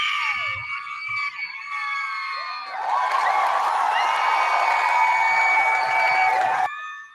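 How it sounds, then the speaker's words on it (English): Studio audience at a comic book podcast taping erupting in loud, sustained cheering, screaming and whooping with some clapping, building after a few seconds and cutting off abruptly near the end. "That is a ridiculous amount of applause"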